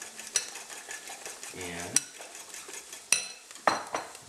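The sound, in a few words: whisking eggs in a bowl for an omelette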